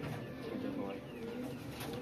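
Pigeons kept by a fancier coo softly and steadily in a loft, low and continuous; someone speaks nearby.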